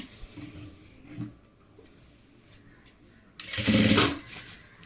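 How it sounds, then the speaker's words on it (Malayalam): A sewing machine stitches a folded hem in a brief loud burst near the end, after a quieter stretch with soft handling noises. "ഇനി ഇതിൻ്റെ അടിഭാഗം മടക്കി തയ്ക്കുക"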